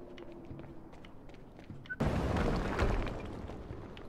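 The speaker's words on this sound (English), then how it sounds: "HQ, we just heard an explosion near the harvesting perimeter." An explosion goes off in the video game Quantum Break, a sudden loud blast that cuts through quiet footsteps and ambience, then a rumbling wash that slowly fades.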